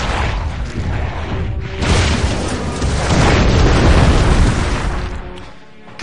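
Rocket-propelled grenade blasts in Turok 3: Shadow of Oblivion, loud booming explosions rolling one into another, a heavy rumbling roar that swells and then fades out, close and with no talking.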